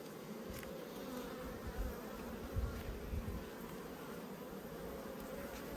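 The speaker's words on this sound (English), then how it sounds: "there's a few bees flying around, mainly from the hive next door that I just went through." Honey bees buzz steadily around a beehive outdoors in Australia, a soft, continuous drone with a few closer passes flying by.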